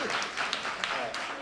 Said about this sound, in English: give you a hand clap,